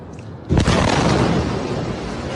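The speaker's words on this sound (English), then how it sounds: "it sounded like there was a lot of falling glass after the explosion" Missile explosion in a city during an Iranian strike on Israel: a sudden heavy boom after a quiet moment, followed by a sustained loud, noisy wash of debris and falling glass that barely fades.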